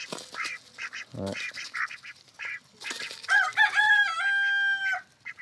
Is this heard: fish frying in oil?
no